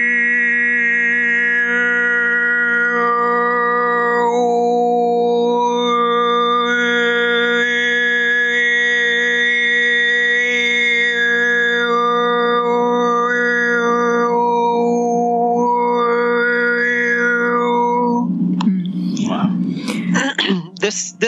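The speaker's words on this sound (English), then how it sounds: "people use that as well when they're doing any form of overtone singing, throat singing" A single voice demonstrates overtone throat singing. It holds a steady drone under it, and a whistling upper harmonic glides up and down above it for many seconds before the tone breaks off into rough noise.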